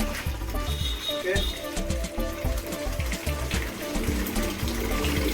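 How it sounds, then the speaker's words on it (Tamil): Tap water runs and splashes steadily while fish is washed in a home kitchen, a continuous close wet gurgle with occasional clinks, and people talking over it. "அடுத்தது மீனை நல்லா க்ளீனாக கழுவிக்கணும்"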